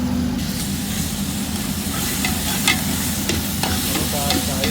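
Ingredients stir-fried in a pan until brown, a steady loud sizzle and hiss with scraping stirs and occasional sharper crackles throughout.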